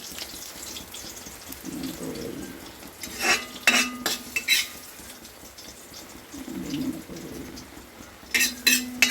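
Fried coconut pieces scooped out of an iron wok with a metal ladle: scattered scraping clinks and knocks against the pan over a faint background hiss, with quieter gaps between.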